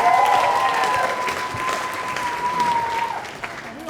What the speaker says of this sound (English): please can we just get a round of applause for my beautiful bride